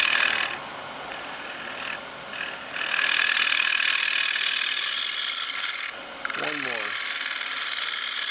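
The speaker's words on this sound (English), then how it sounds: "Turn up the speed a little bit and make a finer cut." A small wooden plate spins on a lathe at raised speed while a tool takes a finer cut. The steady close scraping hiss breaks off briefly a few times, and a voice speaks a few words near the end.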